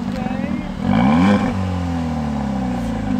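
A 2018 Hyundai Elantra Sport engine revs up and settles into a steady idle rumble, with a brief exhaust pop during the rev.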